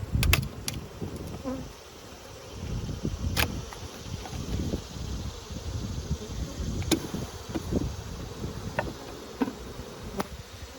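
Honey bees hum and buzz around an open hive during an inspection, a steady close drone with scattered sharper clicks and knocks of hive parts throughout.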